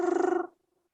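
A human voice imitates a hen purring like a cat, a short, rapid, rhythmic throaty trill of about ten pulses, close and distinct, that fades out after half a second.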